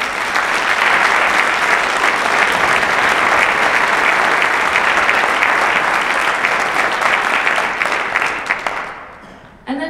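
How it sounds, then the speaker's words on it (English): An audience claps steadily and loudly for a high school honor band at the University of Dubuque, a dense wash of hands that holds for several seconds before fading out near the end. "Can we give them another round of applause?"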